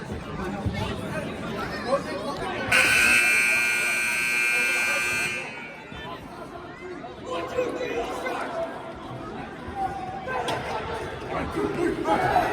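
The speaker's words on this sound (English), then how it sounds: "The buzzer sounds." A loud, sustained electronic buzzer ends a period of an exhibition hockey game, blaring for about three seconds over a noisy arena crowd, which keeps murmuring and cheering after it stops.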